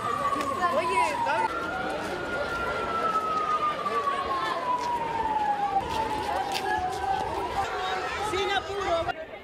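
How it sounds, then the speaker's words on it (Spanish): Emergency sirens in the coastal town of Quellón, Chile, sound a long, slowly shifting wail announcing a tsunami evacuation drill, while people talk and move about nearby. "Las sirenas de los organismos de emergencia comunal anunciaban el inicio del simulacro de sismo tsunami"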